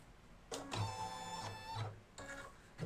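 An embroidery machine stitches a tack-down on an in-the-hoop project in bursts of rapid, whirring needle chatter. Short pauses separate the bursts, and the sound is quiet and close.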